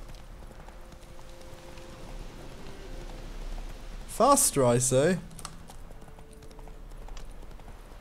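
Horse hooves clip-clop at a steady gallop in The Witcher 3, a continuous game-world rhythm under ambient sound, with a voice briefly calling out midway.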